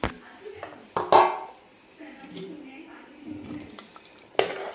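A metal spoon stirs mutton and freshly added hot water in a pot, with scraping clinks against the sides and soft sloshing and bubbling close by, punctuated by a few sharper knocks.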